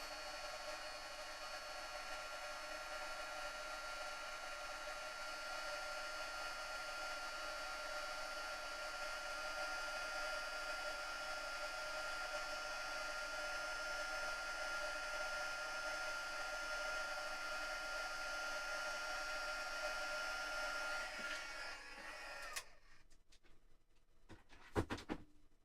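A crafting heat tool blows hot air steadily during card making, a constant whooshing hum for over twenty seconds that then switches off, leaving a few faint handling clicks.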